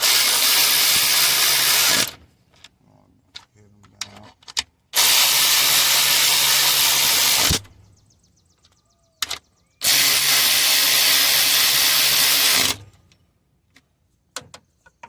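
A power tool drives the 10mm starter bolts on a 2.4L Hyundai Sonata in three loud, close bursts of about two to three seconds each, with quiet tool clicks between them.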